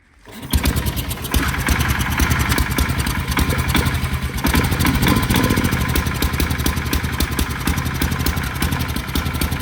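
A 1967 Sears Super 12 garden tractor engine catches after a brief silence and runs hard at high RPM, a loud, close, steadily pulsing mower-like drone that continues to the end.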